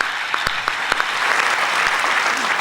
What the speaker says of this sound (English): Could we give them an applause?